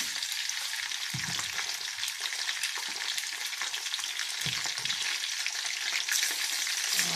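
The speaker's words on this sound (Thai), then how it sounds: "ให้น้ำมันเดือดนะคะ เราใส่ลงไปอีกนะคะอีกชิ้นสองชิ้น" Marinated sun-dried pork pieces frying in boiling oil, a steady, dense crackling sizzle throughout with a couple of brief louder spatters as more pieces go in; no talking.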